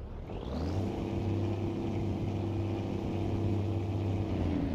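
A Volvo FH16 440 truck engine in Euro Truck Simulator hums steadily and loudly with a deep, even drone, rising slightly as it pulls, with no talking over it.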